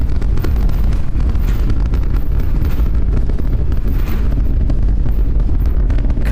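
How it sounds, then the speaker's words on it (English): Roar of 33 Raptor engines on a SpaceX Starship Super Heavy booster lifting off and arcing away from Starbase, heard as a continuous, loud, low rumble with crackling and wind-buffeted distortion and no pauses. "33 out of 33 Raptor engines lit on the Super Heavy booster, arcing away from us here at Starbase"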